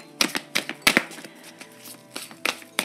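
Tarot cards being shuffled by hand, a quick run of crisp riffling snaps and slaps arriving in short irregular bursts, close and fairly quiet, with no talking.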